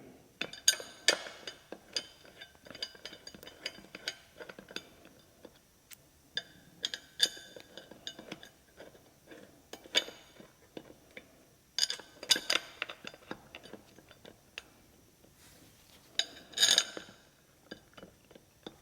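Metal hex flange bolts clink and rattle as they are pushed through holes to join a Vyper gaming chair's center hub to its seat base, giving scattered, sharp close-up taps and clicks with quiet gaps between.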